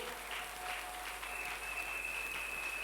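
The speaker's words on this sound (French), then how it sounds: "Applaudissez le Seigneur bien-aimé" Members of a church congregation applaud during a sermon, a soft, steady clapping spread across the room. Faint sustained tones run beneath it, and no one speaks.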